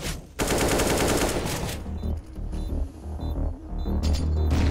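Rapid automatic gunfire from a Counter-Strike: Global Offensive match on the Inferno map comes in loud, dense bursts with brief pauses, over a low throbbing hum.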